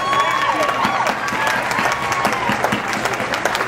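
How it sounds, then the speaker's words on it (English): A pageant audience at the Miss Shrimp Festival applauds steadily, a dense wash of clapping with some cheering that holds loud and even throughout. "please join me in giving her an applause for all the things that she does"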